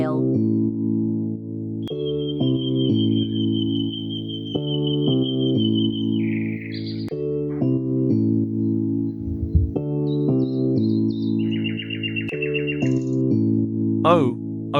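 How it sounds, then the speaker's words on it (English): A nightingale sings in clear, high whistled notes and a rapid trill, set over a steady, upbeat music backing at moderate loudness, ending in a few quick chirps. "N is for nightingale."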